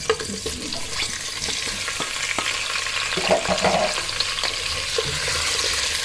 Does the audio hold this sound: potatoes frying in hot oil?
yes